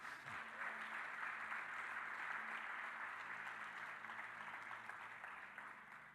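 A church congregation applauds together, a steady, fairly soft wash of clapping that holds for several seconds before easing slightly toward the end.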